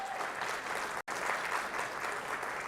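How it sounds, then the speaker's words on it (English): A fundraiser breakfast audience claps steadily in a sustained, even burst of applause, with a moderately distant room sound and a momentary cut partway through. "please give me a big round of applause."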